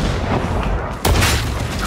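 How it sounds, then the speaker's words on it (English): A grenade explodes in Warhammer 40k: Darktide during Ogryn-class play: a single heavy, booming blast bursts about halfway through, following a stretch of dense, rumbling battle noise. "Grenade!"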